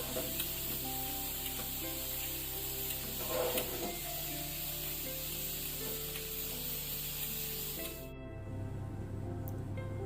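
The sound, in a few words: cashews frying in hot ghee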